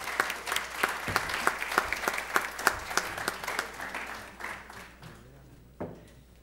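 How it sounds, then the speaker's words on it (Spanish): Audience applause at a criminal law conference as a speaker is welcomed: sustained clapping from a roomful of people, fairly close and steady, fading out over the last couple of seconds. "Recibamos pues con fuertes aplausos"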